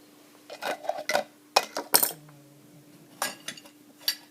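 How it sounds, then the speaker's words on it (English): A metal oil pan is set back onto the underside of a Singer Featherweight 221 sewing machine, giving a series of light metallic clinks and clatters, close and fairly quiet, in bursts with short pauses between. "So I got to put my oil pan back on."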